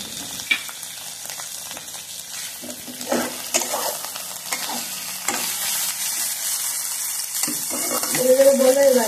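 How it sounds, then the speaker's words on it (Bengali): Onion, green chilli and tomato with spices sizzle and scrape in a pan as they are stirred, a steady fry broken by intermittent spatula knocks, growing louder near the end. "এবার ভালোভাবে কিন্তু মশলাগুলোকে কষিয়ে নিতে হবে, কাঁচা গন্ধটা দূর না হওয়া অবধি।"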